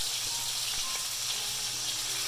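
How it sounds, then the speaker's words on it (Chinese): Fermented bean curd chicken wings fry in a pan until golden, making a constant close hiss with occasional light pops and no speech. "我哋咧就咁樣煎兩邊，煎到有色"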